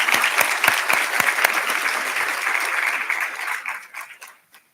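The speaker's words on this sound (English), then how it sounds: "So if we could give them a round of applause." A room of people claps steadily for a few seconds, a few sharp claps standing out at first, before the applause fades to a stop.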